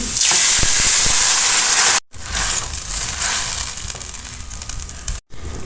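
Chana dal mixture poured into a hot pot, setting off a loud, steady sizzle and hiss that drops out briefly twice, with no talking.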